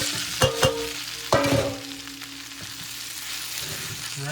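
Oil sizzles steadily in a pan as garlic roasts in a tempering, while a utensil stirs and knocks a few times near the start.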